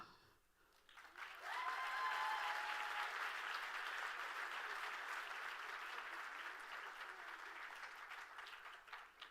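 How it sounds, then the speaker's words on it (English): Audience at a children's charity benefit event breaks into applause, starting after a brief pause and swelling into sustained, fairly distant clapping that holds steady for several seconds before easing slightly. "And let's give another big round of applause to Josiah, Isis."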